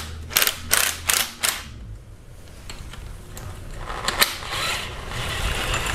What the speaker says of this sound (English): 10mm socket.